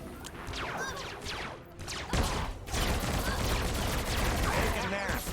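Rapid gunfire in the Star Wars: The Old Republic video game, dense bursts of blaster-like shots layered with crashes and impacts, loud and continuous for several seconds with game effects filling the background.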